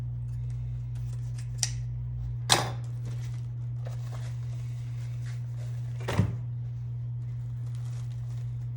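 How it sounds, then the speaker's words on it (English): Three crisp, separate snips of scissors cutting ribbon while a Christmas wreath is made, spaced a few seconds apart over a steady low hum, with no talking. "cut it about the same length as the other one."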